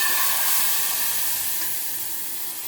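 A hot Dalda ghee tadka with red chillies and cumin gives a steady, bright sizzle and hiss up close that eases slightly over a few seconds.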